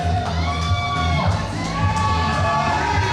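A large crowd roars and cheers in a continuous ovation for a wrestler's entrance at a pro wrestling event, with whoops and shouts rising over the dense wall of noise.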